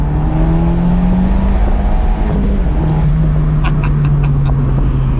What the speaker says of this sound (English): the Monza exhaust on this 124 just sounds so good